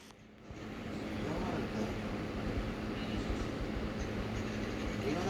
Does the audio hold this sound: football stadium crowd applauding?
no